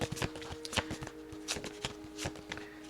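Tarot cards are shuffled by hand in soft, irregular riffles and slaps, quiet and close, with a faint steady hum beneath and no talk.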